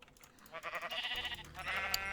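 A Minecraft sheep bleats in a video game, one wavering bleat rising and sustained for about two seconds, moderately loud and alone.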